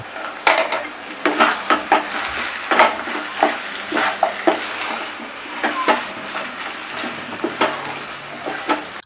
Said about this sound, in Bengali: গরম মশলাটাকে এই সময় মুড়িঘণ্টের সাথে কিন্তু খুব ভালোভাবে মিশিয়ে নিতে হবে।